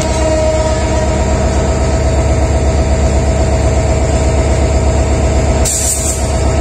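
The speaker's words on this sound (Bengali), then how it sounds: "পারাবত এক্সপ্রেস সিলেটের উদ্দেশ্যে ছেড়ে গেল সকাল 6টা 30 মিনিট।" Parabat Express passenger train pulling out toward Sylhet in early morning, a loud steady rumble of rolling carriages and clattering wheels with a heavy locomotive undertone, a brief brighter burst near the end.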